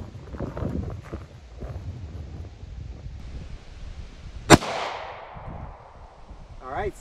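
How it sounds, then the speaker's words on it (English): A single sharp, loud report from a Ruger 57 pistol firing 5.7x28mm through a chronograph outdoors, with a ringing tail fading over wind noise and a low murmuring voice before the shot. "First shot."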